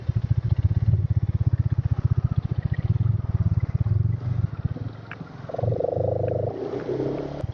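A large motorcycle engine idles with a steady, rapid throbbing pulse up close, then revs and pulls away as the ride begins.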